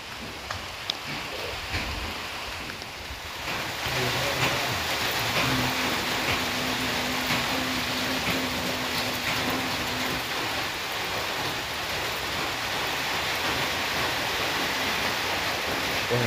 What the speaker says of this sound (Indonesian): Dan sekarang terjadi hujan.